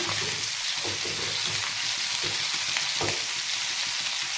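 Several pieces of fish sizzle steadily together in hot oil for a fish curry, a loud continuous crackling hiss with faint bubbling underneath and no one speaking.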